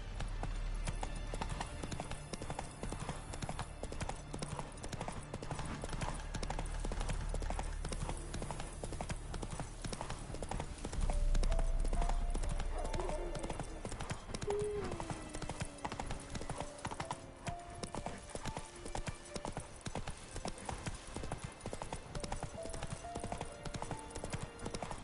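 Roach the horse gallops in The Witcher 3, a long, sustained patter of rapid hoofbeats over rumbling ambience, with short tonal calls drifting in partway through.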